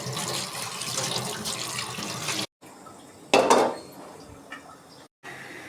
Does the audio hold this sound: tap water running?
yes